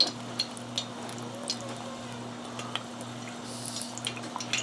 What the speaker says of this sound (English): I'm going to fry these two all the way